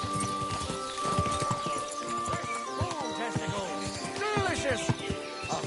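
Horse hooves clip-clop steadily on the ground in Kingdom Come: Deliverance II, with game music and sounds playing over them throughout.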